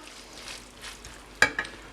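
Chicken and vegetable noodles fry in a pan with a faint, steady sizzle, then a couple of sharp utensil clinks near the end.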